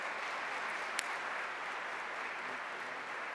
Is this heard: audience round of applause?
yes